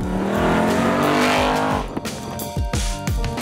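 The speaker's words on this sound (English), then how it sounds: "The way this thing shifts, as soon as I go up the power band, it goes for third, fourth, fifth, sixth." A 2018 Ford Mustang GT engine revs hard and climbs through several quick gear shifts, third to sixth, the pitch dropping sharply at each change before rising again, loud and close.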